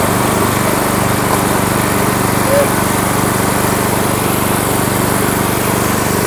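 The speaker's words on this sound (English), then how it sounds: "We've built the world's first 550 RPM gasoline-powered axe that we're aware of." Gasoline engine driving a 550 RPM axe machine, droning loud and unbroken at close range with a steady buzzing hum and no change in pitch throughout.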